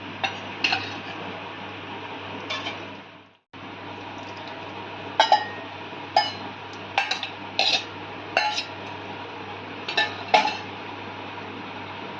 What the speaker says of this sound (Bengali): এবার ভেজে রাখা পনিরগুলো আমরা অ্যাড করে দেবো।